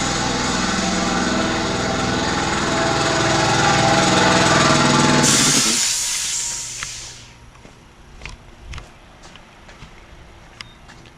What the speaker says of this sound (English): compressor cut on me